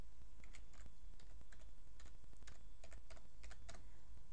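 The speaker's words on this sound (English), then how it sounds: "Once you've typed the key in," Keys clatter on a computer keyboard as a wireless network security key is typed in, a steady run of quiet, close clicks with short pauses and no talking.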